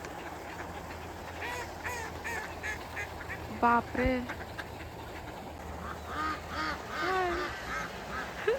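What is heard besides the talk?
ducks quacking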